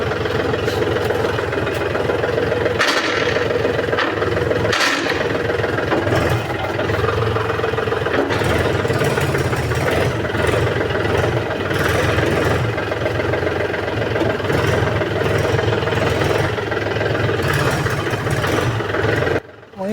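A tractor engine idles steadily for a long stretch, a continuous low rumbling drone with vibration, close and loud, with a couple of brief knocks or clatters over the constant hum.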